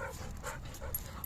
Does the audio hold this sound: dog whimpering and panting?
yes